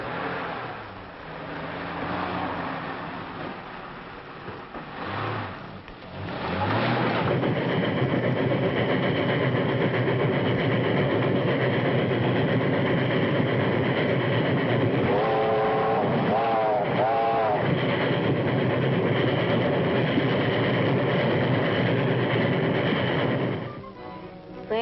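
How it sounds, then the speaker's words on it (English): A heavy, steady rumble of a passing train fills most of the clip, rising after a brief quieter start and holding loud before easing off. "That's the train."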